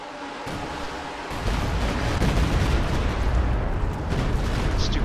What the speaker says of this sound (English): Barrage woefully off target.